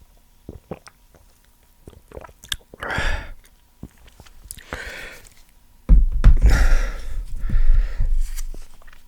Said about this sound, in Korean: 한 입을 딱 먹어보도록 하겠습니다